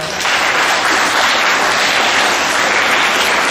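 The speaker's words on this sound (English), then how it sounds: "give these guys a round of applause" Loud, sustained applause from a crowd at a middle school awards assembly, a dense wash of clapping that holds steady throughout with no voices on top.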